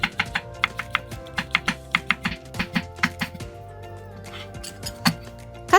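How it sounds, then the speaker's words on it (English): A knife thinly slicing shiitake mushroom caps on a cutting board, a quick run of close, crisp taps in an irregular rhythm, with steady background music underneath. "Then thinly slice 3 Shiitake mushroom caps."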